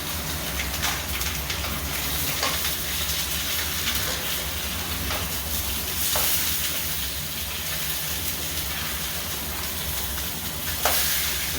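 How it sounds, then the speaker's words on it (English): Rice fries in olive oil in a skillet, giving a loud, steady, close sizzle and hiss with occasional small pops, continuous throughout with no talking. "I put it in the skillet and fry it in some olive oil"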